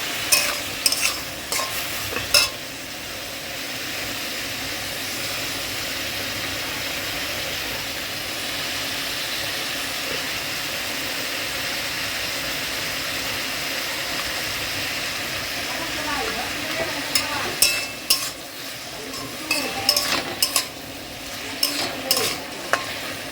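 Ash gourd pieces with fried lentil dumplings and a few potatoes sizzle steadily in a pan while a utensil stirs them, with sharp clinks and scrapes near the start and again toward the end.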